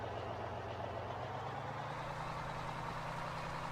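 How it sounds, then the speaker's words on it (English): A heavy truck engine in the video game Farming Simulator 17 rumbles steadily and loudly throughout, a constant low drone with no break. "Very loud truck"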